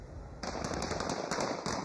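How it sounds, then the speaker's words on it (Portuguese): Rapid bursts of gunfire aimed at a police station in Fortaleza, Brazil: a string of sharp cracks in quick irregular succession over a dense, noisy background, fairly close and loud, with no talk. "O alvo de todos esses disparos foi uma delegacia de polícia em Fortaleza"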